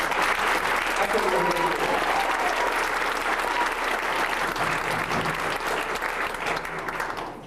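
Sustained applause for graduating sixth-grade students at a ceremony: dense, loud clapping from a large audience that fills the whole stretch and tapers slightly at the end, with a voice faintly audible underneath.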